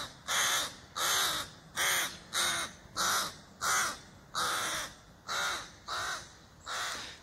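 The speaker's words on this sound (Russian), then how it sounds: "Кого-то мне напоминает эта ворона" A crow caws nine times in a steady, evenly spaced series, each call loud and harsh, heard alone outdoors in the early morning with no voices.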